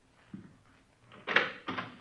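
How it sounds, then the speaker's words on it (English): A door is handled and pulled open: a soft knock or latch thump, then two louder scraping, creaking pushes close by in a quiet room. "Go ahead. Open the door."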